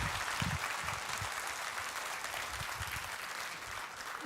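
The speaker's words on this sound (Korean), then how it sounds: "여러분 뜨거운 박수로 맞아주시기 바랍니다." Warm applause from a church congregation at a Sunday worship service welcoming a visiting praise team, steady dense clapping that swells slightly at the start and holds at an even level throughout.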